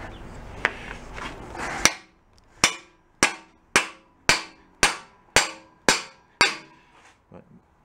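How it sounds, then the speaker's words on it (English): About a dozen sharp hammer blows driving a metal pin into a backhoe thumb at an even rhythm, each a crisp, ringing impact, with rustling handling noise before them and a few soft taps after. "you whack it with a hammer, it starts to go in there"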